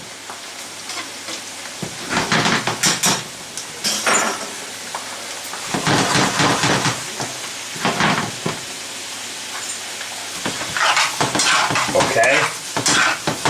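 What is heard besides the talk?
vegetables and potatoes sautéing in a pan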